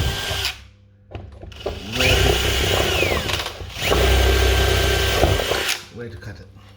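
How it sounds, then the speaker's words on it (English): A power drill whines loudly and steadily, bogging and rising as it bores through a hollow door from the inside corner, with brief pauses between runs. "I'm going to use a drill, and from the inside corner,"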